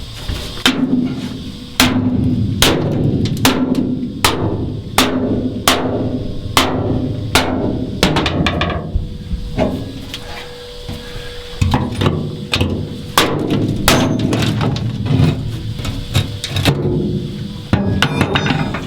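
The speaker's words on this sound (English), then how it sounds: "now I'm going to get the cold chisel in and see if I can get it to start to lift" Cold chisel hammered under a ground-through weld to pry a steel plate off a trawler hull; loud, close, sharp metallic blows strike in a quick steady rhythm, pause briefly, then resume in a denser flurry.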